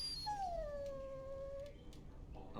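A dog in Dragon Age Origins gives a single high whimper that slides downward into a soft, drawn-out whine. It is faint and stands alone over low background noise.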